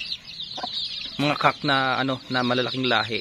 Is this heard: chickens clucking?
yes